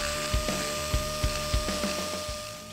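Carbide burr on a rotary tool grinding the cast-iron block of a Ford Small Block Windsor engine, a steady high whine with small rhythmic chattering taps, loud and close with no talk.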